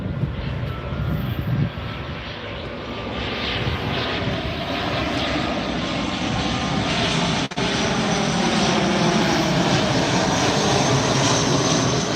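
An airliner roars steadily and loudly on approach to touchdown at Tampa airport, a broad, sustained engine rumble heard from nearby outdoors.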